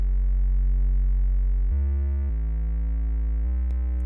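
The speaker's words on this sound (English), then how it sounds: "to create something that sounds like this" A deep, sustained synthesized bass tone holds steady, then steps through a few different pitches, smooth and droning with no other sounds.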